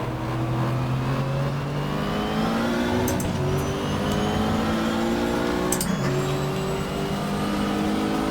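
Oldsmobile race cars pull out of the pits in the GTR2 racing game at the 1995 Daytona 24 Hour, their engines droning loudly and continuously with rising and falling revs as several cars accelerate past.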